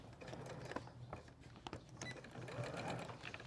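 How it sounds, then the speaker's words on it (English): A sewing machine runs steadily, stitching a 3/8-inch hem through bulky duck cloth for a blanket, its close, even mechanical whir continuing throughout with faint clicks and no talking. "we're going to stitch about a 3/8 hem"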